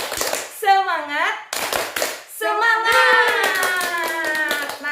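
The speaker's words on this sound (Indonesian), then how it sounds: "saya akan tepuk semangat dulu" A group of mothers-to-be doing a rhythmic spirit clap, tepuk semangat, in a health class: a few quick, close claps mixed with sung and chanted voices.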